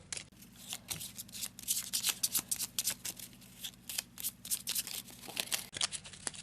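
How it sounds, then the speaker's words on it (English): Arkham Horror madness cards are shuffled close up in a rapid series of crisp riffling bursts and clicks, each flurry repeating over several seconds with no talking. "so here are the madness cards, so let's give them a quick shuffle"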